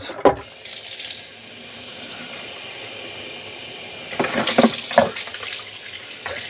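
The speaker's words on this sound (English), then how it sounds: "And now we're going to take this to the sink. There's all the dirty water. Got a nice big spout to pour it out." Dirty water poured from the tank of a Bissell Little Green 4015 cordless cleaner into a sink, a close, steady splashing gush, louder near the end with a few clunks, no talk.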